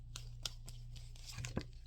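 Self-made oracle cards drawn from a deck, giving a few quiet papery snaps and rustles spaced irregularly, soft and close with no talking.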